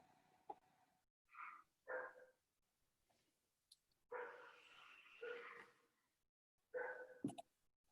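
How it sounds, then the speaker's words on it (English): A dog barking in the background during an online talk, several short, faint barks and yelps spaced irregularly with quiet gaps between. "Dog."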